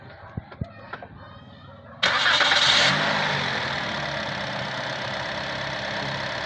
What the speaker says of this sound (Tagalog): start nga boss start nga yung sasakyan para magkaalaman